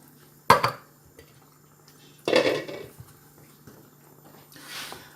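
A spoon stirring chicken and lentil curry with coconut milk in a pot, three separate bursts of metal scraping and clinking against the pot with a wet, thick slosh, close and otherwise quiet.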